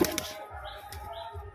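Pigeon wings flap in quick bursts of flight, soft rapid flutters close by, with a faint chirp.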